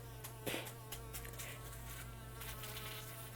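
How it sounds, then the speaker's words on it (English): A bee buzzes indoors with a faint, steady, continuous drone and a slightly louder pass near the start. No voices are heard. "Is that a fly or a bee?"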